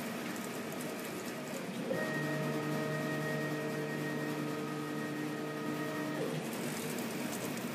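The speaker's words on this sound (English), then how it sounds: "I'm going to press test, because that will show me where the laser will end up cutting" A laser cutter traces a test outline over fabric, giving a steady mechanical whir with sustained tonal hums that start about two seconds in and stop near six seconds, over a constant background drone.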